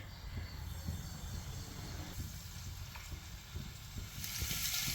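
Coconut oil poured into a hot clay pan on a home stove, giving a continuous low hiss and sizzle at moderate level, steady throughout with a brighter crackle near the end.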